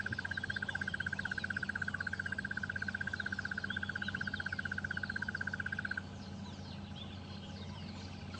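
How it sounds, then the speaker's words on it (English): Birds calling at a dam on a sunrise safari drive, including an Egyptian goose: a rapid, steady series of harsh pulsing calls for about six seconds, then fainter chatter continues over a low hum. "all the birds are getting worked up and it makes for good audio"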